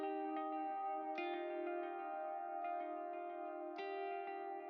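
Soft, sustained electric guitar texture from the FSX Clouds sample in Electric Sunburst, drenched in echo and reverb, quiet and steady with a few gentle note changes ringing out alone.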